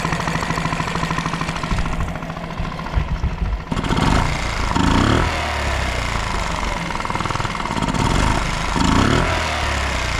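A Yamaha 4 horsepower four-stroke outboard motor idling in a garage, a loud, close, steady chugging putter with a brief dip and surge as the idle is adjusted.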